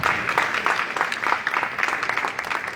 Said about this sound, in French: Sous vos applaudissements, j'ai dit sous vos applaudissements.